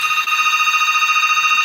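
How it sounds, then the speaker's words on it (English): A phone rings with a loud, steady electronic trilling ringtone, close and continuous, heard alone with no talking. "And now my phone is ringing."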